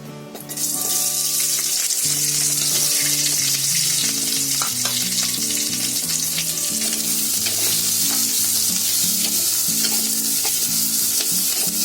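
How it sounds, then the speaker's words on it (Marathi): Onion and capsicum pieces fry in a little oil, a loud steady sizzle running throughout with a stirring scrape and the clink of a spoon against the pan. "हे आपल्याला दोन्ही फ्राय करून घ्यायचे आहेत"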